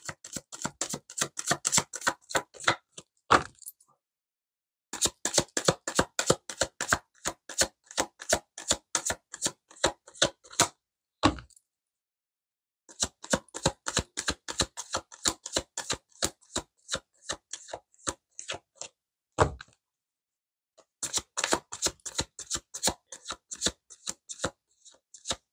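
Tarot cards riffle-shuffled in four long bursts of rapid crisp flicks, broken by brief pauses and single sharp snaps as cards are drawn, close and clear with no talking.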